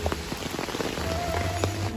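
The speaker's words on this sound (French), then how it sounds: "J'espère que vous appréciez cette ASMR de pluie." Steady rain falls on a surface on a rainy beach holiday, a dense, continuous patter of close drops with scattered louder splashes and a low rumble underneath, no voices.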